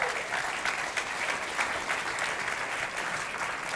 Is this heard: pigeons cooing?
no